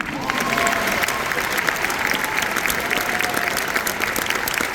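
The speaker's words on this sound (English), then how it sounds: "Please give a round of applause for Morgan Fagioli." A concert audience at a Singing Hoosiers spring concert claps in a loud, steady round of applause that holds at an even level throughout, with no voices standing out.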